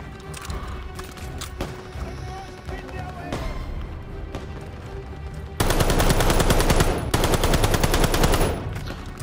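Rapid automatic gunfire from the Call of Duty Vanguard campaign rattles in dense bursts, with sharper shots early and a louder sustained barrage later, while voices from the game are mixed underneath.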